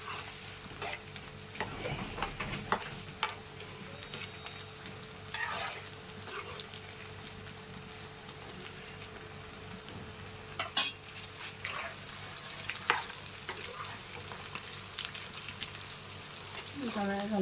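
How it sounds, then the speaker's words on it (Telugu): Chicken pakodi deep-frying in hot oil, a constant low sizzle and bubbling with occasional utensil clinks and stirring scrapes, fairly quiet, with a voice speaking over it at times. "మంచి రెడ్ కలర్లోకి వచ్చే వరకు వేయించుకోవాలి"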